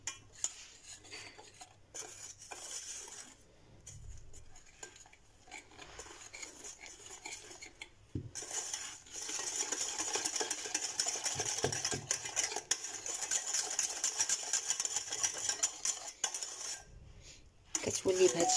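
A whisk or spoon stirs eggs, sugar and cornstarch custard powder in a bowl, giving a steady scraping, clinking rhythm against the sides that runs throughout at moderate loudness with brief pauses and no talking.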